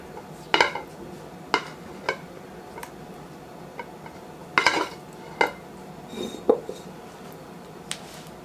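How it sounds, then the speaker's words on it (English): A utensil scrapes out a big mixing bowl of homemade banana pudding, making sparse clinks and scraping knocks at irregular intervals over quiet kitchen background. "Gotta scrape this big old bowl and get all that I can get out of it."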